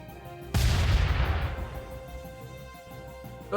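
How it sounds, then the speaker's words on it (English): A single heavy shotgun blast in the video game Front Mission 2: Remake booms out, loud and punchy, then rumbles and fades over a few seconds. "the shotgun sound effect is very oomphy"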